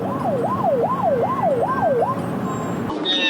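A fire station dispatch siren for a 119 wildfire special response unit heading to a mountain fire in Gyeongju wails in about five smooth rising and falling sweeps. It is loud and steady over a rumbling background, then cuts off near the end.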